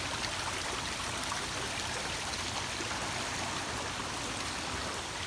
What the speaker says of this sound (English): How quick that water is running.